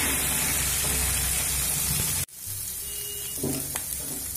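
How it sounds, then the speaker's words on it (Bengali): Radish and potato frying on a medium flame give a steady, fairly loud sizzle that cuts out abruptly midway, then returns softer with a few faint clinks. "দেখুন মূলো আর আলু আমি মিডিয়াম ফ্লেম করে ভেজে নিয়েছি।"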